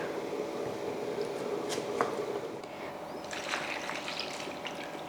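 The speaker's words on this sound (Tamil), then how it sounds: "நல்லா தண்ணி ஊற்றி கழுவிட்டு" Water trickles and splashes steadily for a few seconds as it is poured to wash cut cassava, with a brief louder spatter near the middle, close by and with no talking.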